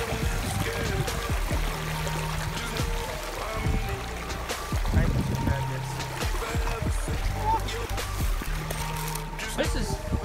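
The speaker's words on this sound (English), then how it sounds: "Do you hear that soothing sound of the water?" Water flows and trickles steadily beside a moving boat, a soft continuous wash close by, with voices talking over it.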